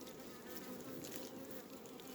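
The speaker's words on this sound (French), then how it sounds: "les abeilles, ouais, pour l'instant sont cool" A honeybee colony buzzes around hive frames during swarm season; a steady, fairly faint drone of many wings holds throughout with no voices.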